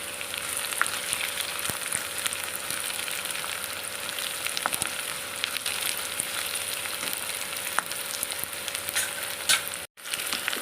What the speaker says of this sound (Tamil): இந்த வெங்காயத்தை என்ன செய்யணும், நல்லா வதக்கி கொடுக்கணுங்க